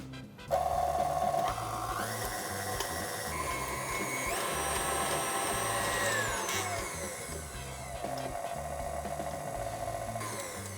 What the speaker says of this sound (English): This mixer is awkward but fantastic. Need to mix this so it breaks down